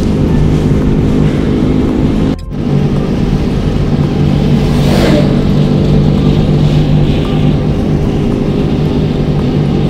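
Car driving along a good road on a trip near Shingnapur, a steady loud rumble of engine and road noise throughout with one brief dip, no voices.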